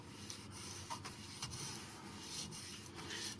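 A Victorinox gardener's floral knife is drawn over an 8 by 3 by 3/4 inch black Arkansas whetstone from Natural Whetstone Company, making soft, faint, even scraping strokes in a quiet room.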